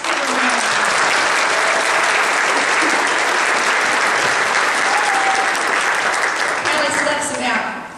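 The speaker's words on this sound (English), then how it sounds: "Let's give her a round of applause." Loud, sustained applause from a church congregation during Sunday School awards, dense even clapping that holds steady and tapers off near the end.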